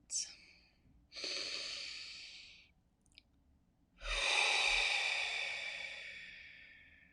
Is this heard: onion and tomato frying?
no